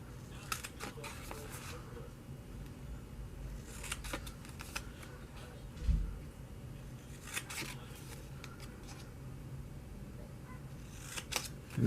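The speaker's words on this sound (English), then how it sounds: "So we're going to take these and cut up to the score line." Scissors cutting slits up to a score line on a paper teacup and mug treat holder, giving quiet, scattered snips and crisp clicks over a soft background, with one fuller crunch midway.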